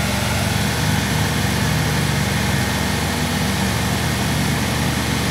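An air-cooled 3-ton residential heat pump using R134a runs near minimum output, giving a steady, close, loud mechanical hum and whir with fan and compressor tones that hold constant throughout.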